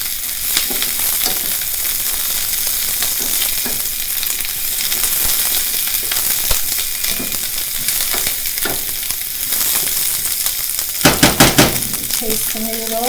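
Shredded cabbage frying in a pan for haluski, a steady loud sizzle throughout, with occasional stirring scrapes and a quick run of utensil clinks against the pan near the end.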